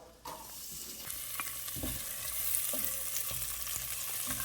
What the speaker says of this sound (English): We're going to saute this together with the butter.